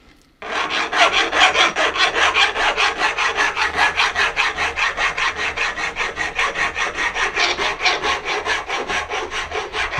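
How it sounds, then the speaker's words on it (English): A metal file deburrs and chamfers the top of a freshly cut bicycle fork steerer tube. Loud, close, rhythmic rasping strokes repeat steadily, roughly five per second, for about ten seconds. "Now I'm just quickly going to whip this out and deburr it with a file."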